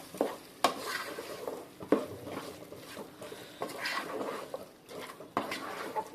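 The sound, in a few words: stirring gongura chicken frying in a pan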